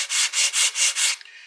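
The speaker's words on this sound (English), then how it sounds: "It's flat, and I'm using 80 grit sandpaper." A flat long block wrapped in 80 grit sandpaper scrapes along the edge of a wooden guitar headstock in five even back-and-forth strokes, close and rasping, then stops with a light knock.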